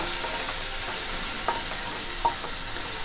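Finely chopped onion fries on low gas in a pan, giving a continuous bright hiss with a couple of soft stirring scrapes, close and with no voices.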